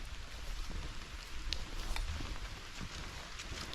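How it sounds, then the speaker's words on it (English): Water drips from rain-soaked trees in a foggy forest, sparse light pattering taps over a faint continuous wash of rain. "You can hear the rain coming down off the trees."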